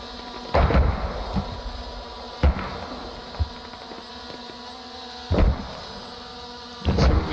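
Mortar rounds fire in a war video game, with four heavy thumping booms spaced a few seconds apart over steady ambient battlefield noise.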